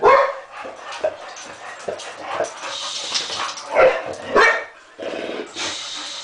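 Several dogs bark and yip nearby in irregular bursts, with some whining mixed in, fairly loud and close.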